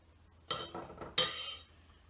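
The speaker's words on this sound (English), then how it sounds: "Grab a little spatula and make sure we get everything out of there." A small spatula scrapes out a pot that held sous vide pulled pork, giving two or three short, close metallic scraping strokes in quick succession against a quiet background.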